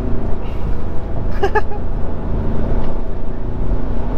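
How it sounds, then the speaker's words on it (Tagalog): Ford Ranger engine on a mountain drive from Laguna to Pililia, Rizal, with a steady road and engine rumble and a brief high whistling whine rising over it about midway. "Ganda na ito ng makina. Sumisipol."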